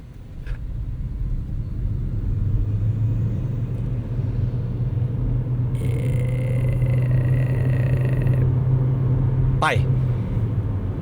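A 2026 Proton e.MAS 7 plug-in hybrid accelerates in Power Mode, heard from inside the cabin as a steady engine drone over a low road rumble that holds firm for the whole run.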